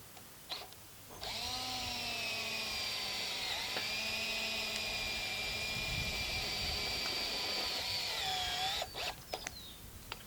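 Power drill driving screws into the joints of high tunnel hoops during construction, a sustained steady whine running for about eight seconds with a brief start before it and short bursts at the end.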